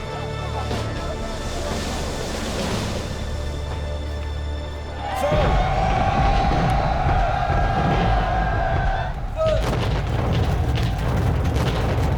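Naval cannon fire in a dramatized Battle of Trafalgar of 1805, a heavy booming broadside that hits abruptly after a tense low rumble, followed by sustained roaring blasts and a tonal ringing layer, loud and dense.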